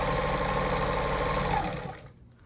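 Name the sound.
sewing machine sewing fabric squares together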